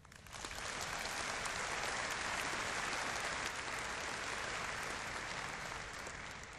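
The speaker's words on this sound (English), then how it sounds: "Please share in a moment of round of applause for them." Audience applause at a University of Waterloo graduation convocation ceremony, a steady, dense wash of clapping from a large crowd that holds at full strength for several seconds with no talk over it.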